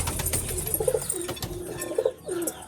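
Soft pigeon coos repeat a few times over a faint background, with light rustling and small clicks between the calls. Pigeons drinking water in an enclosed coop.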